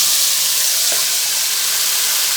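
Ash gourd (petha) pieces drop into semolina roasting in a pan for pethe ka halwa, setting off a loud, steady, bright sizzle that stays even throughout, close up with no voices.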